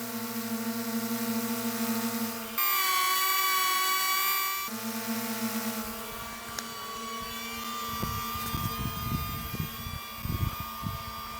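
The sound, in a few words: drones hovering, low hum and high whine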